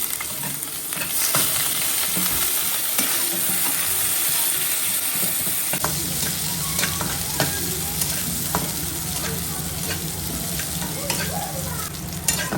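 Onion frying in hot oil with tempering spices for a Bengali dal, a steady close sizzle with stirring scrapes, the frying growing fuller and denser partway through as the onions go in.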